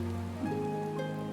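Rain falls in the video game Final Fantasy XIV as a soft, continuous hiss, joined by quiet, steady tones.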